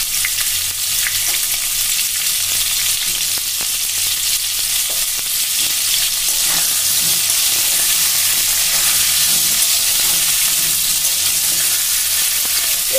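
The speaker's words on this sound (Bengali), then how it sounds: "এবার এটাকে গ্যাসের ফ্লেমটা বাড়িয়ে বেশ 2 থেকে 3 মিনিট ভালো করে ভেজে নিতে হবে।" Pointed gourd with a little salt fries in a pan over a gas flame, a loud, even sizzle that runs steadily throughout, with faint occasional stirring clicks.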